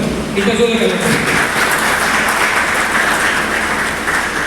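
An audience at a trading seminar applauds to welcome a speaker, a loud, continuous wash of clapping with a voice heard briefly over it at the start before the applause carries on alone.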